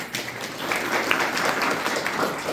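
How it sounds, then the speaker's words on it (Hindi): Audience clapping at a spiritual retreat gathering, a dense, even patter of many hands at moderate volume lasting a couple of seconds, with a faint voice underneath. "ताली बजाओ उसके लिए"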